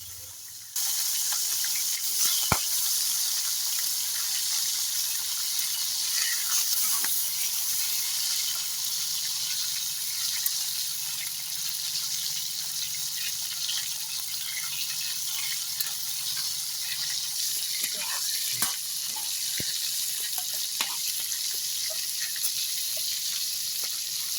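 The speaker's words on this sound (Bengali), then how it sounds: "তো চিংড়ি মাছগুলো আগে ভেজে নিচ্ছি" Prawns frying in a hot pan give a steady, continuous sizzling hiss that holds evenly for the whole stretch, with a few faint clicks now and then and no talking.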